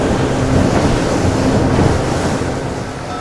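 A boat with a Flux Marine F115 electric outboard runs wide open at about 29 with three people aboard, giving a steady loud wash of water and wind rush that carries unbroken throughout.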